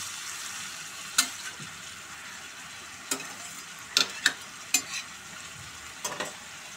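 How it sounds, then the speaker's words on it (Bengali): Cabbage sautéing in a pan as water is sprinkled over it and it is stirred, giving a faint low sizzle broken by several sharp scrapes and clicks of the spoon against the pan. "বাঁধাকপিটা অল্প অল্প করে জল ছিটিয়ে ছিটিয়ে কষাবো, নেড়ে চেড়ে বেশ ভাজা ভাজা হলে তারপর নামাবো"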